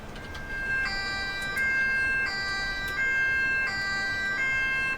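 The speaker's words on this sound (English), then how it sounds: "So we can hear the sirens, so we know he's reasonably close." A video game ambulance siren wails in a repeating two-tone pattern, loud and steady, with no voices.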